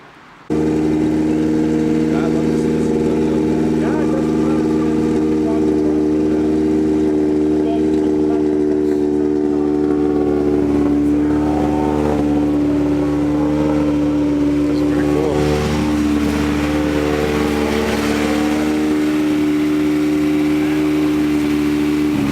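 A car engine idles steadily with low droning harmonics, rising a little in a few revs, close up inside the cabin, with someone talking over it throughout.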